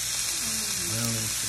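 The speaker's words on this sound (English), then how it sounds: "Browning some beef." Ground beef browning for chili sizzles with a constant broadband hiss, while a voice talks over it for most of the moment.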